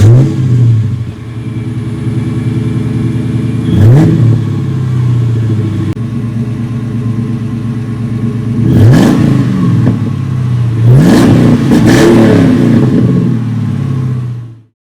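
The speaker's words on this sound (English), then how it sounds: "This is a cold startup with a stock H-pipe and a full Flowmaster catback" A 2002 Mustang GT 5-speed with a stock H-pipe and a full Flowmaster catback exhaust, idling loud and throaty after a cold start and then rising in three sharp revs before settling back, with no talking.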